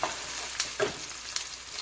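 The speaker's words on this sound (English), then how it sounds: "I'm sauteing some onions, scallion, garlic, scotch-bonnet pepper, and some thyme leaf." Onion, scallion, garlic, scotch bonnet pepper and thyme saute in a hot pan, giving a steady close sizzle broken by a few short stirring scrapes.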